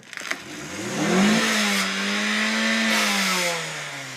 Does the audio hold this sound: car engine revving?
yes